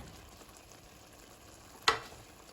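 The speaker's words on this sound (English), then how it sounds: "Let's go ahead and stir so the meat could get all that sauce." Meat stirred into a pasta sauce in a pan for rotini pasta, heard as a faint, steady low sizzle broken by a single quick scrape of a utensil near the end.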